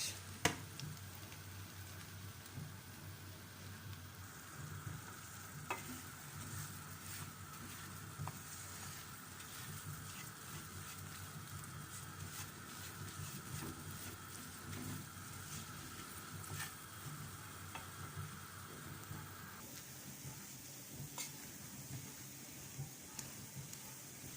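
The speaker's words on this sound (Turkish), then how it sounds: "Evet arkadaşlar helvamı kavurdum." Halva stirred and roasted in a pan gives a steady, faint sizzle with soft scraping strokes that run continuously throughout, with no voices over it.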